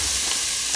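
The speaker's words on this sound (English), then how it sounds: "Back to sweating our onions. Move those onions." A brief, steady sizzle and hiss of onions sweating in a pan for veggie chili con carne, close and even with no voices.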